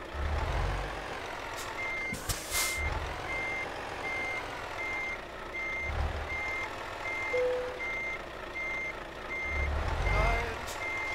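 Truck in Euro Truck Simulator 2 reversing with a steady train of regularly spaced beeps over a low rumbling engine, punctuated by air brake hisses and a short tone, with some talk nearby.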